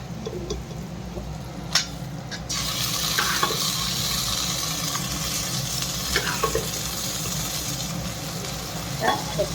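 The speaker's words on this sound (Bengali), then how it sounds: "সর্ষে শাকটা দিয়ে দিলাম।" Boiled mustard greens drop into a sizzling tarka in a pan, the frying hiss swelling loudly as they land and then holding steady with occasional stirring scrapes.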